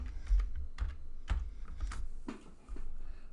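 Rapid keystrokes on a computer keyboard, a run of close, crisp clicks in irregular bursts, each tap sharp and near, with no voices over them.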